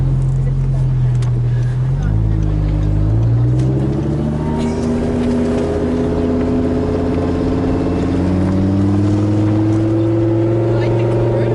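Audi R8 convertible in sport mode accelerating hard, its engine note climbing steadily through the gears with a loud, continuous roar and rising pitch as the car pulls away, with people talking over it.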